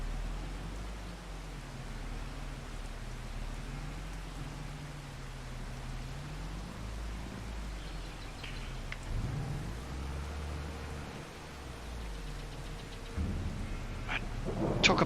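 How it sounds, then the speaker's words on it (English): Steady rain hisses in a farming video game while low thunder rumbles and rolls beneath it, with a faint mechanical hum joining partway through and no one talking. "Here comes the rain again."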